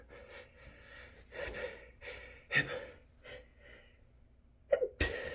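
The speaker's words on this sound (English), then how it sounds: "I hate when a sneeze goes away like that." A man breathes in sharp, shaky gasps as a sneeze builds and then fades without coming, up close and quiet, ending in a short snort or sniff.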